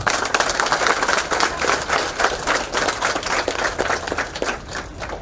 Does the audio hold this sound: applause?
yes